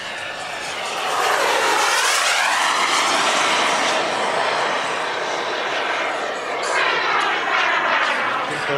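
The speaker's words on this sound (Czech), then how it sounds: "Maketu švédského stíhacího letounu Saab Draken J-35 v rakouském Markingu." A model Saab Draken J-35 jet fighter flies at an air show in Marking, Austria, its engine a loud, sustained roar that swells and shifts in pitch as it passes overhead.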